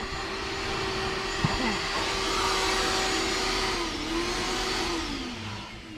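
A vacuum cleaner drones steadily nearby, a constant whining hum with slight shifts in pitch as it moves, no voices.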